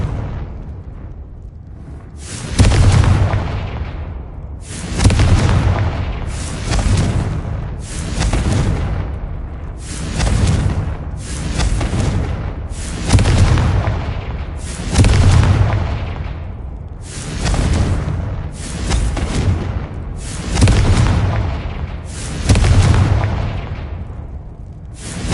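Confringo spell explosions go off repeatedly in the video game Hogwarts Legacy, about a dozen loud, booming blasts at irregular intervals of one to three seconds, each with a rumbling decay.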